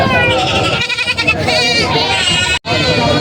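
Many goats bleat over one another in a busy, noisy livestock market crowd, with people talking and shouting nearby throughout.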